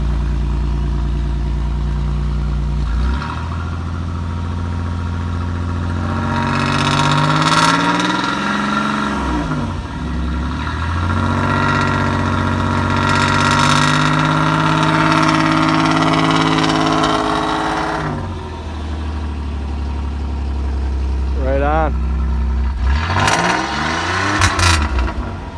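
1990 Oldsmobile Cutlass with a 3.1 liter engine and Thrush turbo muffler running on a cold start, a low exhaust rumble at idle broken by several revving surges that rise and fall, fairly close.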